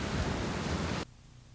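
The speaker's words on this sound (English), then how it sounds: "No, it's just rain, Ray." Heavy rain, a dense, loud hiss of downpour that cuts off abruptly after about a second, leaving near silence.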